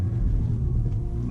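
A rear-wheel-drive Mazda RX8 on summer tyres driving through snow, heard from inside as a loud, steady low engine and road rumble.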